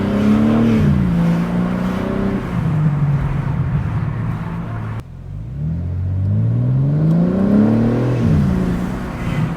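A BMW G80 M3 fitted with a Dinan carbon fiber intake revs hard and close, its engine note climbing and falling in two long sweeps with a brief drop in between, with no talking.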